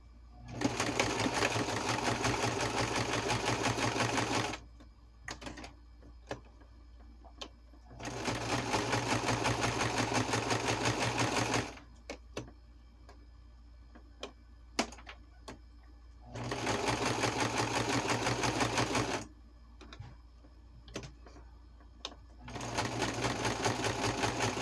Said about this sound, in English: I'm going to sew all the way